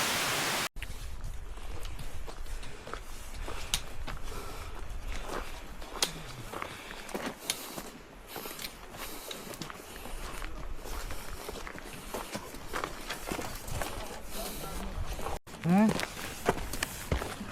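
Footsteps tread steadily along a hiking trail near the ruined village of Old Khndzoresk in Armenia, a continuous crunch of walking under rushing water and wind, with people talking at times.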